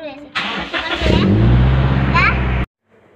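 A petrol Toyota Innova engine cranks and catches, then settles into a steady idle rumble close by. Someone talks briefly before the start, and the sound cuts off abruptly near the end.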